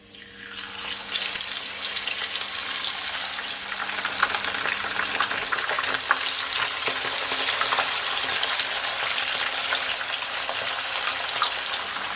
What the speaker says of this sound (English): So now guys, I'm gonna fry my fish.